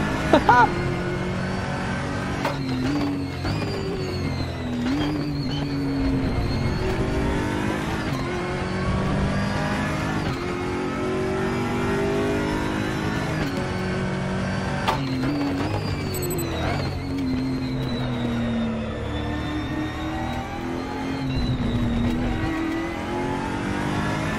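A car engine accelerates in a racing video game, revving up and shifting through rising and falling pitch sweeps. The engine stays loud and continuous throughout, with no one speaking.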